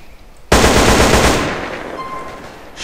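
A sudden loud burst of rapid automatic fire from a modded weapon in GTA San Andreas starts abruptly and rolls on, then fades into a long echoing tail.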